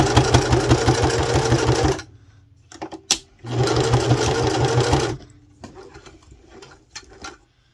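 A sewing machine backstitches thread through fabric journal ornaments in two loud, steady, rapid-stitching runs of about two seconds each. Quieter clicks and handling noises fill the gap between the runs, and a light rattle follows them.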